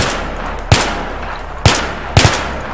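Gunfire in the Battlefield 3 co-op video game, three sharp separate bursts of loud close shots, the last a quick double, set against a quiet background hum.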